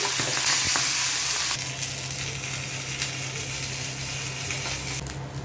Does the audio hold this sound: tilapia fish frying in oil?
yes